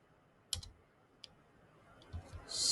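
A few separate clicks of keys being typed on a keyboard sound close and quiet, with short pauses between them and a quick cluster of taps at the end.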